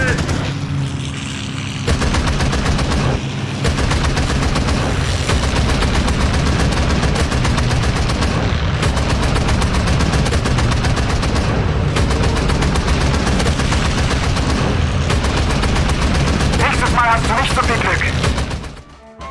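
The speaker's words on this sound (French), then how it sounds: "Les balles, les obus tombent sous les carlingues des chasseurs britanniques" Rapid, dense machine gun and cannon fire from a BF-109 fighting British fighters over the Battle of Britain, sustained bursts roaring almost continuously for nearly twenty seconds with a loud, crackling intensity.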